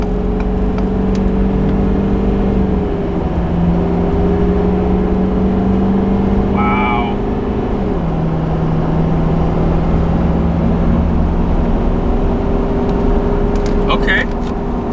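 A lifted Ford F-250 on 37-inch tires accelerates on the road, its engine drone shifting up through gears beneath a loud, steady roar of tire and road noise from inside the cab.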